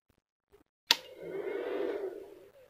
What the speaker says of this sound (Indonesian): itu suara dari kipas